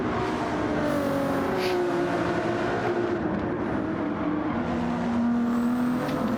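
A Ferrari race car in Gran Turismo roars past with a steady, high engine whine and rising pitch, loud and continuous throughout the pass.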